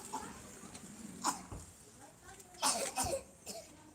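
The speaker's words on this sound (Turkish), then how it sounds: "Öksürüyorsun." A child out riding a bicycle coughs in several short, rough bursts, two of them close together, against a quiet outdoor background.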